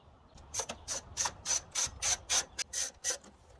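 A ratchet turns factory bolts on a 2019–2021 Chevrolet Silverado while mounting light bar brackets, a rapid run of about a dozen crisp clicking strokes, close and alone.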